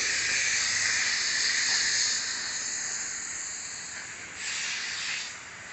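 A Dupray NEAT vapor steam cleaner hisses loudly and steadily, easing off partway through before surging again briefly, then tapering, with no voices.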